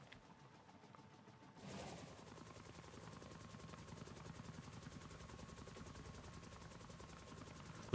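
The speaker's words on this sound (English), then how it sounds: "Okay, let's get back in our chopper." A helicopter from the Insane Craft pack for Minecraft Bedrock starts up abruptly after a quiet moment, then keeps up a steady, fast rotor chop with a faint engine whine.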